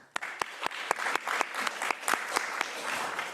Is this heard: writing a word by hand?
no